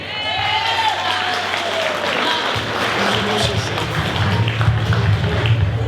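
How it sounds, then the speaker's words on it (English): Audience applause for youth performers at a Kwanzaa celebration, a broad crowd clapping over a low hum and crowd noise, with whoops and voices rising through it and a few louder thumps near the end. "Give them a round of applause."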